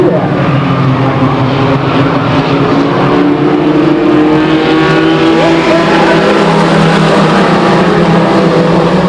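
Late model race cars roar around a track in a dense, continuous engine drone, loud and unbroken, with overlapping engine tones rising and falling as the pack passes.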